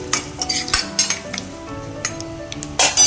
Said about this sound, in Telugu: మన పసుపు అనేది కూడా వేగిన తర్వాత ఇలా వేయించుకోవాలి